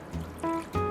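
Water pours from a container into a stainless steel pan of dissolving flour, a short close trickle lasting under a second with a couple of splashy surges.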